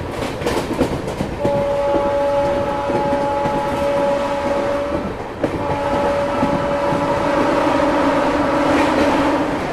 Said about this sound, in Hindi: अब हम आ गए हैं जम्मू नई दिल्ली मेन लाइन पे और स्किप कर रहे हैं जालंधर कैंट रेलवे स्टेशन को